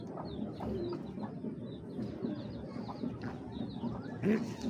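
A large female pigeon of Netherlands origin coos softly in a quiet setting, giving low, faint murmurs, with light chirps from other birds around it.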